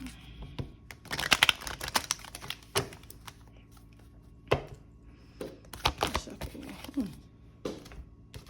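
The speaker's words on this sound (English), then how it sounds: "we're gonna shuffle one more time." Tarot cards are shuffled in short bursts of rapid clicking and riffling, separated by quiet pauses and faint handling noises.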